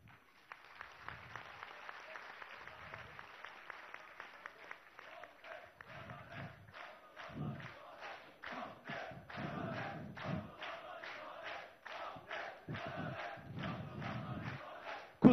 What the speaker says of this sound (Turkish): Kusura bakmayın, vaktim olduğu için kesiyorum tezahüratınızı.